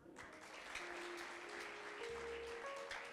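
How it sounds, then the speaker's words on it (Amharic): Congregation clapping during a church healing service, a sustained wash of applause from many hands, moderately distant and steady, with faint tones underneath. "እስቲ አጨብጭቡ።"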